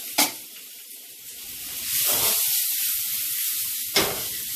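Shrimp for fried rice hit a very hot wok with a sharp, loud sizzle that stays as a steady hiss, broken by a few sudden bursts of searing as the shrimp are tossed.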